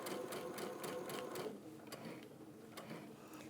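A sewing machine quilts with white thread while the fabric is guided and gently moved. It runs as a loud, rapid steady stitching for about a second and a half, then softens and slows with a few separate clicks.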